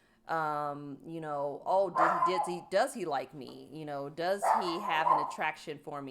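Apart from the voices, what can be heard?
dog barking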